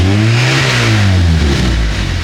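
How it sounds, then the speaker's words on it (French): A car engine on a stanced EC9 revs hard as it accelerates, a loud, close, rising mechanical roar that holds steady throughout with no pause. "Vas-y, accélère un peu."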